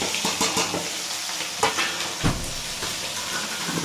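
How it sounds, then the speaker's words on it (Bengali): Chopped onion, garlic and chilli sizzle and fry steadily in hot oil in a pan, a loud continuous hiss broken by a few stirring scrapes, with no voices. "ততক্ষণে পেঁয়াজটা লাল লাল করে ভাজা হোক।"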